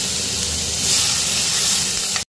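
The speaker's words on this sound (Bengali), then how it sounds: "টমেটো কুচিগুলো দিয়ে দিলাম" Chopped tomatoes hit hot oil seasoned with nigella seeds and sizzle loudly and steadily close by for about two seconds, ending in an abrupt cutoff.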